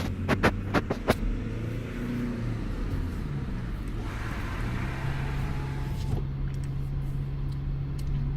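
On a narrow mountain pass east of Andermatt, a truck rumbles past close by, a steady, heavy low drone building and holding for several seconds after a few sharp knocks at the start, with no one speaking.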